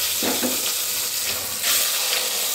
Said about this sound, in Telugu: ఇప్పుడు ఎగ్స్ని ఫ్రై చేసుకోవాలి.